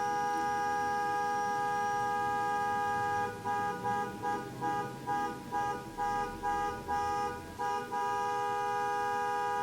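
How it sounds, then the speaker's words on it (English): A car horn outside honks in a rapid run of about a dozen short toots, muffled and moderately distant, over a steady electrical hum indoors. "There might be more honking to come"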